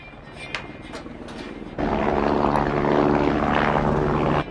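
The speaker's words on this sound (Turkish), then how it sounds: "İşte bu helikopter." A helicopter flies in a 2021 science-fiction action thriller, its engine and rotor cutting in suddenly with a loud, steady droning roar after a quieter opening with faint movement noises.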